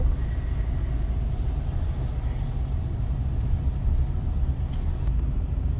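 A manual-transmission car on a driving-test course holds second gear, giving a steady low engine and road rumble heard from inside the cabin with no talking.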